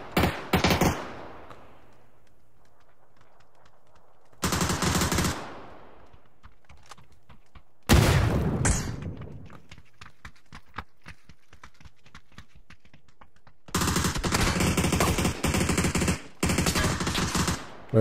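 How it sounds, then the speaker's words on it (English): Video game gunfire comes in several loud bursts of rapid automatic shots separated by quiet gaps, with a few isolated single shots between them. "Wait, who's shooting and from where?"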